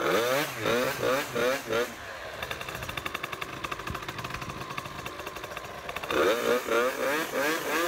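A Booster 70cc scooter engine idles on its first start, a rapid buzzing two-stroke pulse heard in the middle stretch, with someone talking over it before and after.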